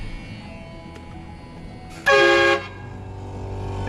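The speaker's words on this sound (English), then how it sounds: "definitely gotta have a train horn" A loud train horn fitted to a pickup truck blasts once for about half a second, a bright multi-tone chord standing out sharply over a low idling background.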